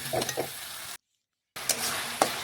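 Chopped tomatoes being stirred into spices in a pan, sizzling quietly, with scraping strokes of a spoon before and after a short silent gap, part of a pressure-cooker mutton dish.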